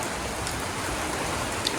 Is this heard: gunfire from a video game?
no